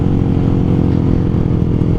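Motorcycle engine droning steadily while riding on a road during a long-distance tour from Bandar Lampung to Jakarta, a continuous loud rumble with a constant rhythmic pulse and no voices.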